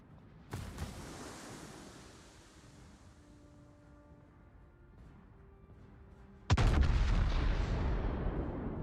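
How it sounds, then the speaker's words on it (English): Heavy naval gun salvos from warships in the World of Warships game, with one booming blast near the start and a louder, sustained barrage of rumbling fire later, over a low ambient wash. "He's shooting at the Almirante."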